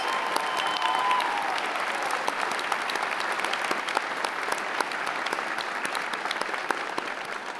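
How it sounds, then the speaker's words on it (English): A commencement crowd at Northcentral Technical College applauds the student life office staff, a steady wash of many hands clapping in a large hall that carries on evenly at moderate volume. "Let's give them a round of applause."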